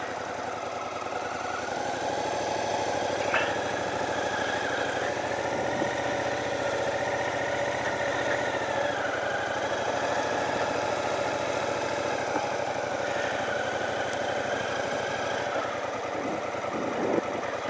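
Small engine idling after a choke start, a steady, close, mid-pitched running drone with a faint knocking vibration and a slight waver in its tone throughout, with no voices.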